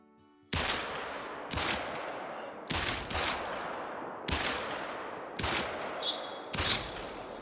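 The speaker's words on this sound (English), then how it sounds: "How in the heck did we pull off a shot on that thing?" Gunshots ring out during a wild boar and roe deer hunt, about six loud sharp reports spaced roughly a second apart, each with a short echoing tail in open country.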